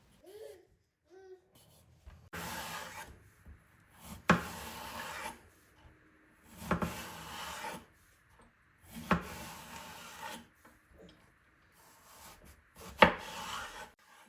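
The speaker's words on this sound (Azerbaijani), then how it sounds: "Badımcanların qabıqlarını soyuram." Eggplant skins are peeled in a kitchen, a series of rough scraping strokes, each a second or two long with short pauses between, close and moderately loud in an otherwise quiet room.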